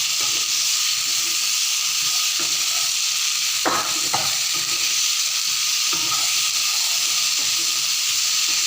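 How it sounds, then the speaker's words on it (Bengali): Potato pieces frying in spiced oil with turmeric and salt for a potato and tangra fish curry, giving a steady loud sizzle and hiss with a few brief stirring knocks. "তো এখন এর সাথে আলুটাকেও একটু ভেজে নেব।"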